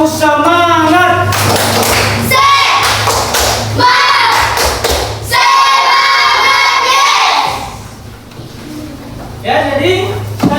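Schoolchildren in an Indonesian classroom loudly chant together and clap a rhythmic spirit clap in bursts, with thumps and shouts between rounds and a brief lull before a final burst.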